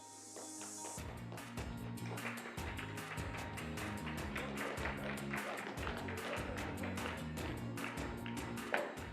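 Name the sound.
audience giving a polite golf clap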